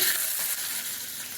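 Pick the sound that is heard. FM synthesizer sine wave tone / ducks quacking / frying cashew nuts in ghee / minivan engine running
frying cashew nuts in ghee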